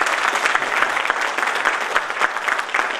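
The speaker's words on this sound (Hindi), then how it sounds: "तो ताली बजा के बताइए मुझे फील हो रहा है।" Audience applause from a hall full of listeners at a talk on duty and responsibilities, a dense steady wash of clapping that holds loud and even for the whole stretch.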